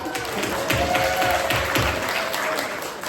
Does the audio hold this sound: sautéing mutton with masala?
no